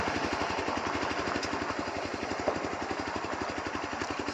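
A motorcycle on a forest trip through Chilapata idles nearby, its engine putting out an even, rapid chug at a constant speed throughout.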